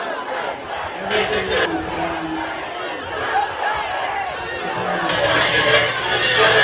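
A large crowd at a public talk on Ohio's Stand Your Ground law shouts and chatters loudly, its roar rising and swelling toward the end until it swamps a voice speaking under the noise.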